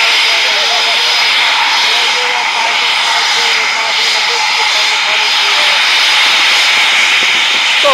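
A Eurofighter Typhoon jet roars steadily overhead at RAF Coningsby, a loud, constant engine rush filling the whole stretch without a break.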